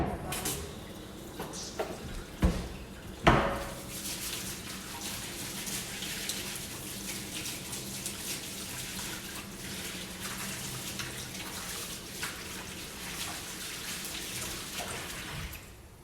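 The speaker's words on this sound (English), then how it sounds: "I'm gonna wash my hands again." Tap water runs steadily while hands are washed at a kitchen sink during a cooking session, a continuous close splashing hiss with a couple of sharp clatters near the start.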